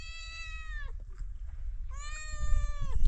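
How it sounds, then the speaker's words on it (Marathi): A cat meows twice, two long, clear, close calls separated by a short pause, over a low background rumble at a village kitchen where a prawn masala has just been cooked over a wood fire. "मांजराला पण आवडलं म्हणून म्याव म्याव करते"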